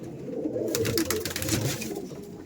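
Madrasi pigeons, a white-headed pair, coo softly and steadily at close range for a couple of seconds, with no voices.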